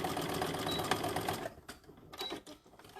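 Sewing machine back stitching a seam on a tote bag: a steady rapid mechanical whir for over a second, then short stop-start bursts as the stitch reverses, close and fairly loud with no talk.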